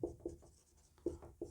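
A pen or marker writes by hand during a lecture on fundamental rights, giving a few quick, faint scratching strokes in short clusters, close up and otherwise quiet.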